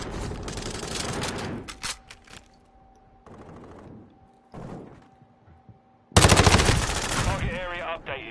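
Automatic gunfire in a military shooter video game rattles out in loud, rapid bursts separated by short pauses. A steady tonal hum runs beneath, and a final burst is the loudest.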